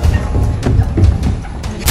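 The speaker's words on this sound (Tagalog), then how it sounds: "Ano ang pagsabog na iyon?" Several sharp booms crack out at irregular intervals over a rumbling background, like distant blasts or gunfire, with one louder burst at the end.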